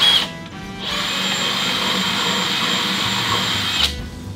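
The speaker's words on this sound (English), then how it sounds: "it's time to start drilling" A power drill bores holes in a spare car bumper lip, giving a loud, steady whine that runs for about three seconds after a short start and stops abruptly, with no talking.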